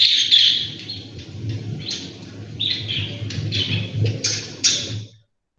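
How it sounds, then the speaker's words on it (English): A long-tailed shrike's call played back as a recording: a run of harsh, scratchy bursts and chattering notes repeated over about five seconds, fairly close and clear over a low steady hum, ending abruptly. "The long-tailed shrike."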